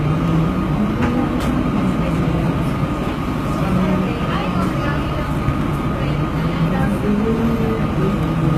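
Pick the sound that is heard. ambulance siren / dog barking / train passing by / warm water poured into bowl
train passing by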